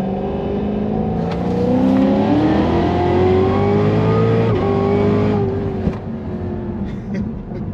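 A 1150 HP Cadillac CTS-V pulls hard in third gear, its engine note climbing steadily in a loud, sustained roar up close, then cutting back sharply to a lower, fluttering idle near the end.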